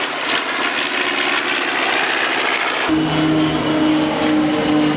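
A steady aircraft engine drone fills the whole stretch, loud and continuous, shifting to a lower, more tonal propeller hum partway through, during a Battle of Britain Day air display at Biggin Hill.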